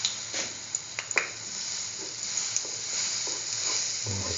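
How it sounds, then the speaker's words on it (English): A chickpea-flour-batter-dipped sweet coconut toast sandwich sizzling in a frying pan, steady hissing fry with a few soft clicks and taps from the pan, close and alone. "dip the sandwich in the chickpea flour mixture. And put the sandwich onto the pan"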